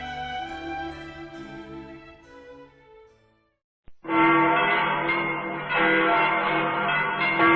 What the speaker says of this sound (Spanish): Miguel Hidalgo toca las campanas de la iglesia para llamar al pueblo a levantarse en armas